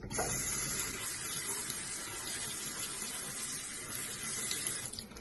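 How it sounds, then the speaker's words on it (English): Lettuce being rinsed under a running kitchen tap, a steady close hiss and splash of water pouring continuously for a few seconds with no talking. "First, wash the lettuce."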